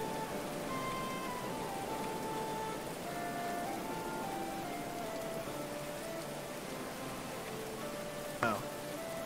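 Steady rain falls in the medieval colony-building game Going Medieval, a dense, even hiss of drops that runs without a break, with faint game tones drifting over it and a short soft knock near the end.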